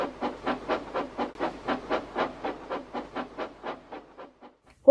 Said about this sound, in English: With a long blast of his whistle, Dudley headed off to fetch his return train.